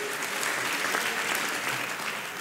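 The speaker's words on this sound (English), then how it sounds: "Give yourselves a round of applause." An audience at a Black History Month community honors event applauds continuously, a thick, even roar of many hands clapping from start to finish.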